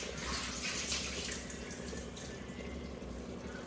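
Tap water runs steadily into a vessel to measure water for cooking rice, a continuous close rushing stream without talk.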